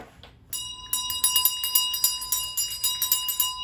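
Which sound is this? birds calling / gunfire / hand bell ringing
hand bell ringing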